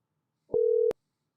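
A short electronic ringing tone of an outgoing phone call, a single steady beep lasting under half a second, bracketed by two clicks, heard alone on a quiet line.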